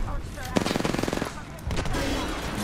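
Rapid automatic gunfire in Apex Legends, a fast even burst of shots lasting under a second followed by more scattered fire and game noise, with a player's voice faintly mixed in.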